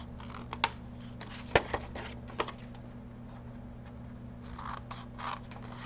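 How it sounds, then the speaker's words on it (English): Scissors snip a thin strip off a journal page, a few crisp, quiet cuts close to the mic over a low steady hum. "I just take my scissors and cut off about a 1/16 of an inch right here."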